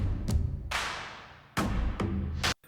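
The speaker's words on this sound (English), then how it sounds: "We have some percussion stuff that sounds like this." A percussion loop of sharp, noisy hits with low thumps in an uneven pattern, some strikes ringing briefly before the next one, dry and up close.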